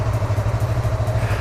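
A motorcycle engine rumbles steadily at low revs with an even pulsing throb, close and fairly loud, as the rider eases into second gear and pulls away slowly. No one is talking.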